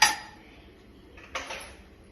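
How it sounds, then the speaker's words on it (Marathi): A metal pressure cooker lid is fitted onto the pot, giving a bright clink at the start and a second, softer metallic contact about a second later, close and alone. "कुकरचं झाकण लावून घेऊ"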